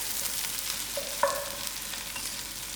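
Onions for a vegetable stew sizzle in a pan over lowered heat, a steady soft crackle with one brief clink of a utensil partway through.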